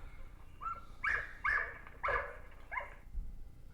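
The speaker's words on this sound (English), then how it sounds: "All my other dogs are going crazy." Several American Bully XL dogs barking excitedly, about five sharp barks in quick succession, fairly faint and somewhat distant, with no talk over them.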